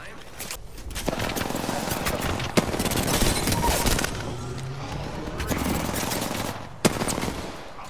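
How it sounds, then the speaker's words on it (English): Video game gunfire crackles almost nonstop, rapid automatic bursts with a couple of sharper single shots standing out, while a player talks over the action. "Before the ring closes, we have shooting at me"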